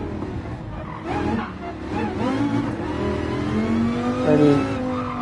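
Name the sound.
race car driving and skidding in a racing video game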